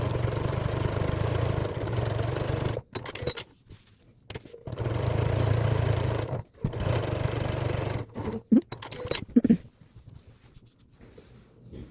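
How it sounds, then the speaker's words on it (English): A sewing machine running a simple straight stitch across diamond quilting lines, a steady close mechanical whir in several long runs, broken by short pauses and a few brief stop-start bursts near the end. "So now I'm just going to take it over the sewing machine, and I'm just going to use a simple straight stitch and sew all of these diamond patterns."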